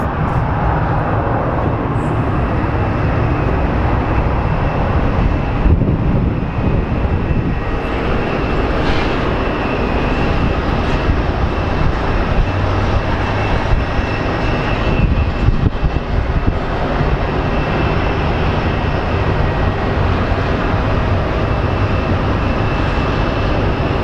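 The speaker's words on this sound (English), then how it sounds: "I think this American Airlines 777 will eventually take off." Steady, loud broadband jet roar from an American Airlines Boeing 777 at Phoenix Sky Harbor International Airport, the engine noise holding constant throughout with no talk over it.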